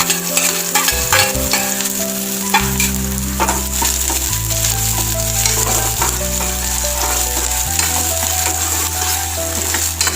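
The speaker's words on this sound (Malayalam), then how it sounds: "വെളുത്തുള്ളിയുടെയും സവോളയുടെയും പച്ചമണം പോകുന്നവരെ ജസ്റ്റ് ഒന്ന് വഴറ്റുക" Chopped garlic and onion sautéing in a pan for a Kerala spinach mulakushyam, with a steady loud sizzle throughout and the scrape of a spatula stirring, over a low background drone.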